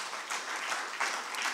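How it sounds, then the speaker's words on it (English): An audience at a hybrid annual general meeting applauds the organisation's CFO with a dense, even wash of clapping that stays fairly faint and distant throughout. "a round of applause"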